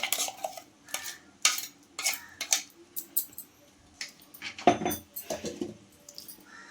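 Tamarind pulp being mixed into drumstick pickle gives a series of short, wet squelching and clattering bursts in an irregular rhythm, close by, with quiet gaps between strokes.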